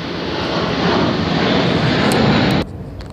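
Broadband roar of a fixed-wing aircraft passing overhead, loud and steady for several seconds before dropping abruptly, heard alone outdoors with no talk.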